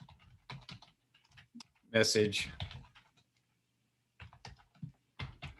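Computer keyboard typing while composing the body of an email, short bursts of quick key clicks near the mic, broken up by a person speaking in the middle.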